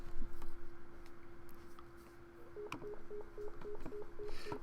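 A telephone dialing in the Nekopara visual novel game: a steady tone gives way to a quick run of evenly spaced short beeps, quiet, with no talk.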